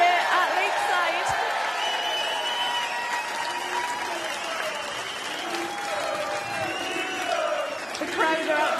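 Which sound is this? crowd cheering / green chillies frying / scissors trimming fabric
crowd cheering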